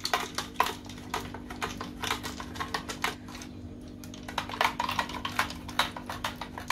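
A spoon stirs a thick raw mango panha mixture in a vessel, giving quick, close, irregular clicks and scrapes in bursts, with a brief pause midway and no talk.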